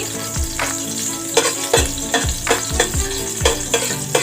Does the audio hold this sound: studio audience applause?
no